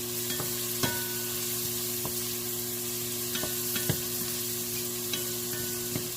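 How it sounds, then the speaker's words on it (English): Peppers and onions stirred in a frying pan for a homemade meat sauce, gentle sizzling with a handful of spoon scrapes and taps spread irregularly across the pan over a steady hum. "Stirring up the peppers and the onions to see if the ratio is enough."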